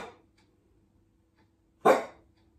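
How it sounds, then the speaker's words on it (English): Dog barking indoors, one sharp, fairly loud bark after near silence, with the tail of a faint earlier bark at the start. "stop barking."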